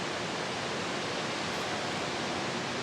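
Steady, dense roar of rushing water from the Androscoggin River at an old hydroelectric station, loud and unbroken throughout with no voices.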